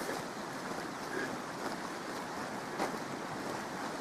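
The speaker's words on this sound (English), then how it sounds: "Right next to the creek that's running today." Continuous rushing of running water, steady and broadband like a flowing creek, with a faint breezy hiss and no talking.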